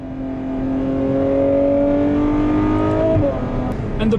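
A Ferrari F12 Berlinetta's V12 engine pulls loudly and steadily under light throttle at road speed, its smooth rising drone sustained throughout with a shift-like change near the end.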